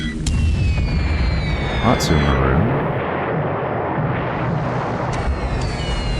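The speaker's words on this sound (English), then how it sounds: "Couldn't tell if that was 1 bomb and an explosion or 2 bombs." Booming bomb explosions in the naval war game War Plan Orange, with deep blasts and rumbling aftershocks layered under a voice as he speaks.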